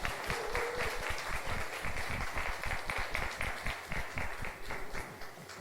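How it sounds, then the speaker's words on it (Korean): An audience claps in welcome at an event before a ventriloquism performance, giving a lively, rhythmic burst of many hands that continues steadily and eases off slightly toward the end. "환영의 박수 부탁드립니다."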